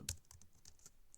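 A few quick, light computer keyboard keystrokes tapped in an irregular burst, close and fairly quiet, with no voice over them.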